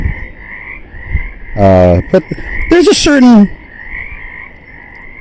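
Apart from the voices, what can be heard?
frogs croaking in a frog pond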